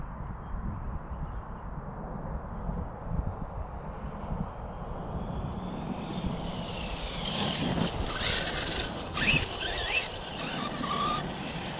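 An Arrma RC car with a Hobbywing motor driven near full throttle, heard as a distant rising electric whine that grows louder and sharper over a steady outdoor rumble.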